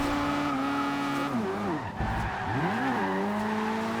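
A car drifting in Forza Horizon 2, run without drift suspension: a steady engine drone carries continuous tire skid and squeal, with the pitch dipping and swooping as the car slides through the corner, loud and close throughout.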